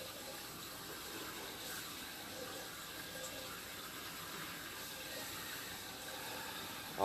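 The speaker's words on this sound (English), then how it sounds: "A little bit of water escaping down on the bottom of the pipe" Water escapes and trickles along the bottom of a sewer pipe near an offset joint, making a faint, continuous watery wash with no voices.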